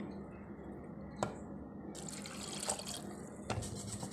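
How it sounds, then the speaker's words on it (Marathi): Water poured into a small pressure cooker holding pigeon pea dal with turmeric and oil, a quiet splashing pour that swells after a moment, with a few light metallic clinks, no talking. "आणि आवश्यक तेवढं पाणी घालूया आपण"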